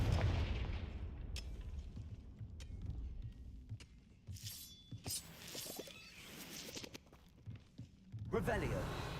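A Confringo fire spell in the Hogwarts game, heard as bursts of blasting booms and crackling impacts scattered over several seconds amid footsteps and ambient game noise, moderately loud with a voice calling out spells.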